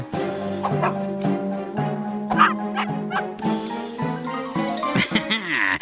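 Cartoon dogs barking: a rapid run of loud, near yips and woofs with tonal, yelping barks and a whimpering tail at the end.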